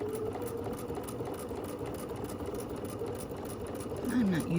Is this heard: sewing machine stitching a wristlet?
yes